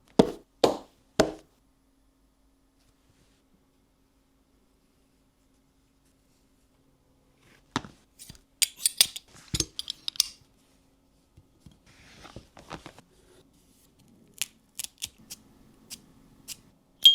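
Diplomáticos El Emisario cigar being cut, a few sharp clicking snips from a cutter close up, then quiet followed by scattered small clicks and handling noises, no talk.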